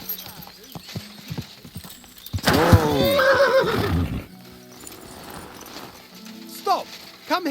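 A horse in Kingdom Come: Deliverance II gives a loud, wavering whinny in the middle, with hooves clip-clopping and faint game sounds before and after.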